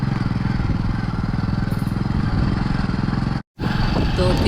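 A motorcycle is ridden with one hand, its engine putting out a steady, loud low-pitched chugging drone close by. The sound cuts out briefly for a moment, then resumes with wind noise over it.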